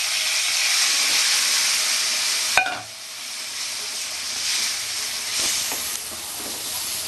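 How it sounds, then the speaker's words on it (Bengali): Cumin paste sizzling in a pan while cooking a Bengali-style drumstick and prawn curry, a loud close hiss that eases after a sharp clatter, then steady frying with small stirring bumps. "আমি জিরা বাটাটা এবার দিয়ে দিলাম। আমি বেশি ভাজবো না"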